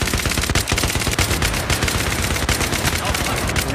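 Continuous, loud automatic gunfire in the video game Battlefield 3, a dense rapid stream of shots that fills the whole clip without pause.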